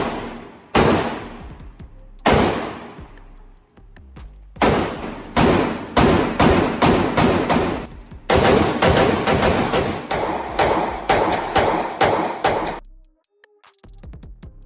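Gunshots from a Micro Draco pistol at an outdoor gun range: loud, sharp cracks in rapid volleys, single shots at first and then fast strings of bursts with short pauses, ending in quiet.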